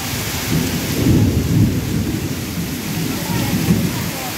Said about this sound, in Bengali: বৃষ্টি দেখছি, দেখতেই থাকবো শুধু